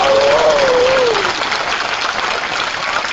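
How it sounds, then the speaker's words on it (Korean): Audience applause at a lecture hall talk, a steady broadband wash of clapping filling the room throughout, loud and continuous with a brief tonal whistle-like sound early on. "박수 한번 감사합니다."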